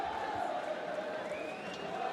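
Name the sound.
tense basketball crowd in Cameroon vs Rwanda game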